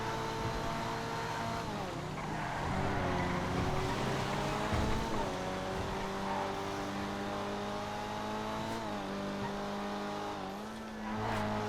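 Big-engined race cars in GTA FiveM roar continuously, their engine pitch climbing and dropping through repeated gear shifts, with occasional tire squeal, loud and sustained with no talk.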